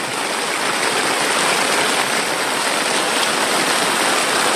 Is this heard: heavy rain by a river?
yes